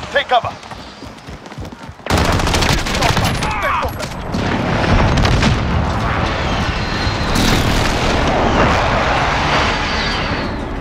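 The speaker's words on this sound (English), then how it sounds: "Enemy precision airstrike inbound. Take cover." Airstrike explosions and heavy gunfire in a Call of Duty Modern Warfare team deathmatch boom loudly and continuously after a quiet start, layered with rumbling blasts and a passing aircraft roar.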